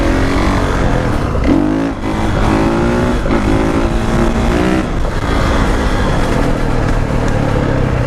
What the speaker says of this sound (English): See if I can rip a fat wheelie real quick.